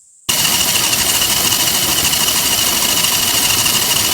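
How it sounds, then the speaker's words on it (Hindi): A motorbike engine abruptly starts up and runs loud and close, a steady rough drone with no speech over it. "पापा की बाइक की आवाज आ रही है"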